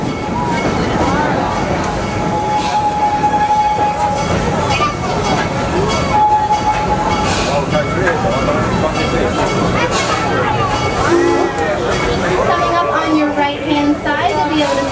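Serengeti Express train ride at Busch Gardens Tampa, travelling from Congo to Nairobi via Stanleyville: steady rumbling rail noise and wheel clatter run throughout, with voices of riders talking over it.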